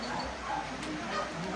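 A dog gives short barks mixed with whimpering yips, fairly close, over a busy background with voices talking nearby.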